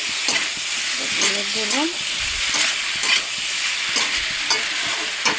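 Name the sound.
prawns frying and being stirred in a pan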